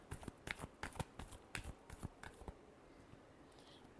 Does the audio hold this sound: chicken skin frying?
no